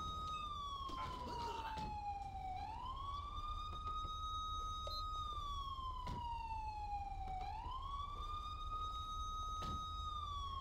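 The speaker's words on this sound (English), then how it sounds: "Can you shut your fucking siren off?" A police siren from a Crown Victoria highway patrol car in the game LSPDFR wails continuously, its pitch sweeping slowly down and back up in long cycles over a steady engine hum.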